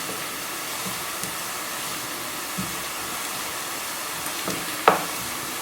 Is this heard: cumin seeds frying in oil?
yes